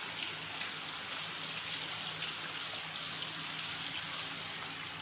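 Heavy rain pours down onto muddy ground in a steady, dense hiss that stays loud and even throughout, with no voices or other distinct sounds.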